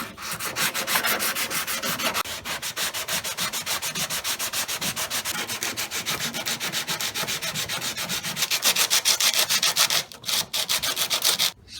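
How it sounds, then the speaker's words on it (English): Steady back-and-forth block sanding of polyester body filler with fresh 80-grit paper during rust repair, a loud rhythmic rasping scrub that continues without pause, briefly interrupted near the end. "We're gonna go ahead and block this down, get it ready for primer. Fresh 80."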